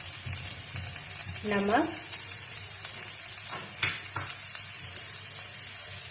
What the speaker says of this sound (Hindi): इनको हम हल्का सा सौते करेंगे।